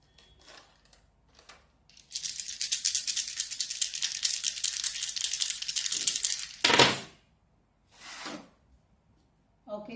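Dice rattling and clattering for several seconds in a continuous burst, then a few sharp knocks as they settle, with quiet pauses around it; no talk during the roll.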